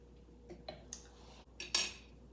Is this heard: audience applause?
no